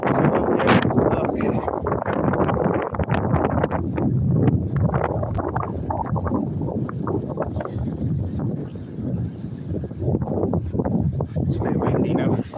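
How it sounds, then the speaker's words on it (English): Gusty wind buffets the microphone in a steady low roar beside a canal lock in Kilcock, Ireland, with a person talking over it throughout. "It's a bit windy now."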